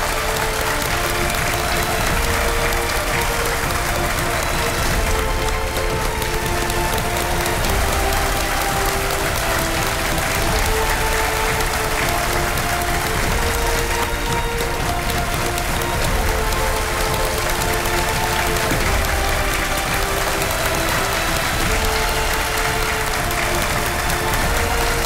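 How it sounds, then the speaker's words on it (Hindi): A studio audience applauds continuously to welcome a contestant on the Indian quiz show KBC, a dense, loud, sustained clapping that fills the room without pause. "तालियों के साथ उनका स्वागत किया जाए।"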